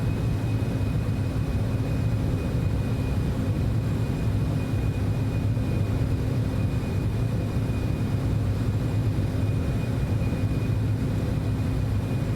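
Citation X jet engines in the MSFS 2024 flight simulator throttle back after takeoff, a steady, dense cabin roar with a low rumble and a faint high whine running unbroken throughout.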